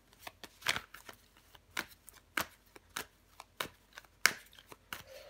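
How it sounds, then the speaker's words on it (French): Tarot cards being turned over and laid down in a series of sharp, close slaps and flicks at an irregular pace, with no talk over them. "Je vais recouvrir des cartes."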